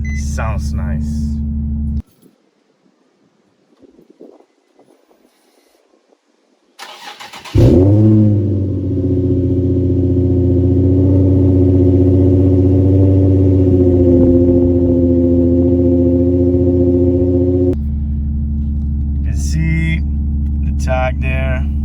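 A Nissan 350Z sports car engine with automatic transmission cranks and fires, then holds a loud, steady rev for about ten seconds before settling back to idle, with a person talking over it.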